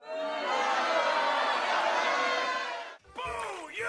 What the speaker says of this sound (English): And the crowd goes...